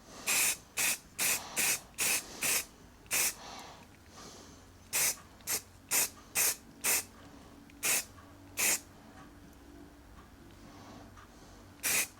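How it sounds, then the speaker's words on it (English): Aerosol can of Halfords grey primer spraying a light coat onto a metal tool, in a run of short hissing bursts close by, spaced irregularly with quiet pauses between. "These are just going to get a very light coat of a grey primer"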